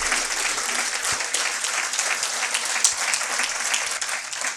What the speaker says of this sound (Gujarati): રહીશભાઈનું ખૂબ તાળીથી અભિવાદન કરીએ